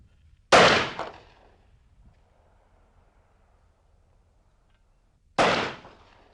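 Two loud hunting shotgun shots fired at a target, spaced about five seconds apart, each a sharp blast with a short decaying tail, outdoors with quiet between them.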